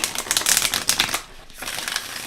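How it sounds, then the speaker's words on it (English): A large, long-format oracle card deck being shuffled by hand, close and crisp, with rapid flurries of papery riffling and clicking, a brief pause, then another quieter run of shuffling. "shuffling them this way is also a great way to do it if you have smaller hands"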